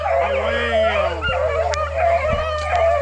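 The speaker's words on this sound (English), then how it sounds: "Them high nose dogs right there." Hunting dogs bay and yip close by while trailing a cottontail rabbit, with a long howling cry and quick barks, and someone talks over them.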